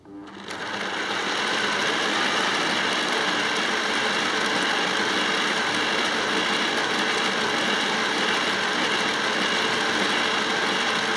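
A Magnorail chain drive on a model layout starts up and runs with a steady, close mechanical whirring hum that holds constant for about ten seconds.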